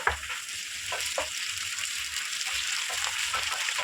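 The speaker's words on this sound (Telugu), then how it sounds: "ఇప్పుడు కొంచెం అల్లం పేస్ట్ వేస్తున్నానండి నేను." Ginger paste frying in hot oil with curry leaves for a goat brain fry: a steady, close, loud sizzling hiss with occasional stirring scrapes, and no talking.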